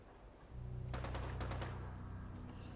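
Gunfire in the video game Fallout 76: a rapid automatic burst of shots over a low steady background drone, fairly loud and close, fading into a continuing hum without speech.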